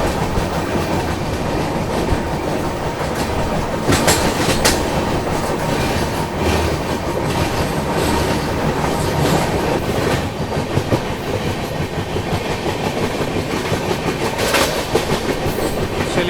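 Kashi Vishwanath Express 15128, New Delhi to Banaras, running steadily on the rails, heard from inside a 2AC coach with continuous loud rumble and rhythmic clickety-clack, with no talk.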